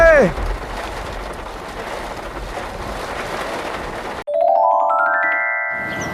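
Cartoon storm on a river, with steady rain and wind noise roaring evenly for about four seconds before cutting to a sudden quiet, followed by a rising musical tone.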